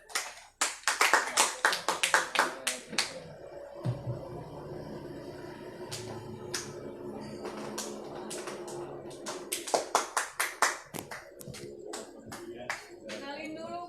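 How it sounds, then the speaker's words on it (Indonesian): Audience applause at a book discussion of a poetry collection, with a dense burst of hand clapping at the start, then a second, shorter round near the end, and talk in between. "kita tepuk tangan."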